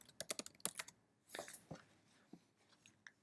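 Typing on a computer keyboard in R Studio: a quick burst of crisp, close keystrokes, then a few louder, broader key presses and scattered lighter taps, with no talking.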